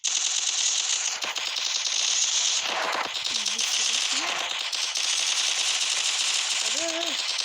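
Rapid automatic gunfire crackles through a first-person shooter video game, near-continuous rattling bursts with brief gaps, while someone talks over it in short phrases.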